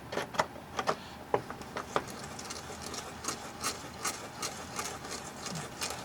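A hand-cranked case trimmer cutter shaves the mouth of a 30 M1 Carbine brass case, giving a close run of dry, scraping clicks in an uneven rhythm with no voices.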